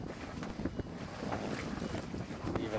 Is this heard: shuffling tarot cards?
no